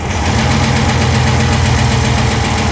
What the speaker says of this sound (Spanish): Ahí entró la marcha atrás.